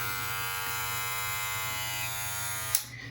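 A cordless electric hair clipper runs alone with a steady, close buzz for nearly three seconds, then cuts off abruptly near the end.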